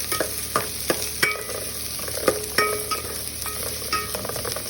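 Tomatoes sauté in a pan for a clam dish, a constant sizzle broken by several sharp clinks and scrapes of a utensil against the pan, close and without voices.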